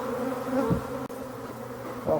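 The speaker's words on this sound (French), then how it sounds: "Voilà, secouer c'est ça, c'est enlever les abeilles." Honeybees buzzing loudly and continuously as a beehive is shaken to remove the bees, a dense close drone with a brief thump partway through.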